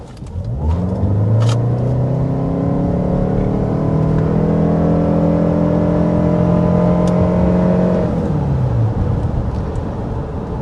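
A 2025 Toyota Sienna Platinum hybrid minivan with an e-CVT pulls away under hard acceleration, its engine drone rising in pitch and then holding a steady whine for several seconds before easing off, loud and close throughout.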